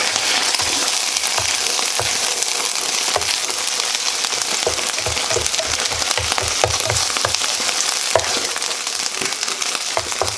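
Ground meat in Sloppy Joe sauce being stirred in a pan, giving a steady close sizzle with repeated soft scraping and spoon knocks throughout.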